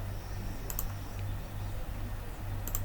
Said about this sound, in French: Je clique.